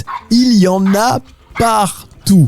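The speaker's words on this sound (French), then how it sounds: "T'entends ça? Ce sont des aboiements." A dog at a campsite barks and whimpers in short, high, wavering yelps, close and fairly loud, in several bursts separated by brief pauses, with a person speaking over it.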